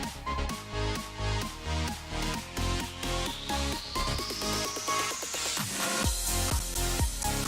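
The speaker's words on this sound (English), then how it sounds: "Snares come in." Snare hits pile into an electronic dance build-up, driving faster over pulsing chords and a rising sweep before a heavy drop near the end.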